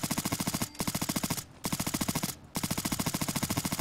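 Suppressed NIArms HK416 rifle firing in Fallout 4, three rapid full-auto bursts of muffled shots separated by brief pauses, loud and close with no talk.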